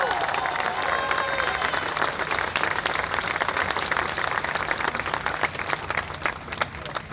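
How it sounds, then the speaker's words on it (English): A large outdoor crowd applauds ship captains at the Sail250 opening ceremony in Baltimore's Inner Harbor, sustained broad clapping with distant cheering spread across the waterfront. "And now you can applaud for all of them"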